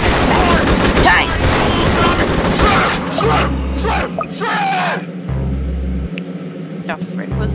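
A railgun tank firing in a Roblox tower defense game, with loud, rapid gunfire and rumbling blasts, followed by deep, pulsing booms that repeat about every two seconds. An excited voice talks over the game sounds.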